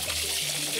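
Water is poured continuously along a shark's body to keep it moist during tagging, making a steady close trickling and splashing with no pauses.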